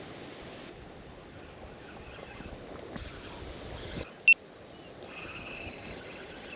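Wind blowing over open water during a spinning-rod fishing trip at dawn, a steady broad rush with gusty swells and a brief sharp knock partway through, no voices.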